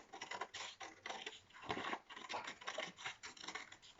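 Scissors snip steadily around a paper plate or card, cutting a spiral shape in a series of repeated close rasping cuts with no voices.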